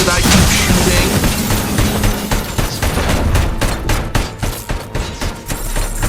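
Rapid gunfire from a first-person shooter, RoboCop: Rogue City, during a fight with the ED-209 robot, with dense repeated shots and booms that crackle loudly throughout and thin into separate bursts toward the end.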